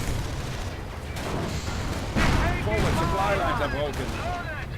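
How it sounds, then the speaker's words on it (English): Artillery fire in a WWII real-time strategy game, with booms and gunfire rumbling steadily under a commentator's continuous talk. "And artillery called in on the Volksgrenadiers"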